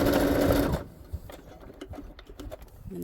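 A sewing machine stitching a fabric journal cover, a loud rapid whirring run that stops abruptly, followed by quiet handling clicks and a brief restart at the end.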